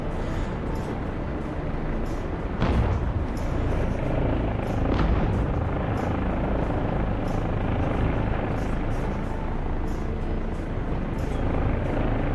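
A helicopter in a modern war video game, with a steady broadband rotor and engine drone holding throughout, fairly loud and close, with a couple of brief sharper bursts mid-clip and no speech.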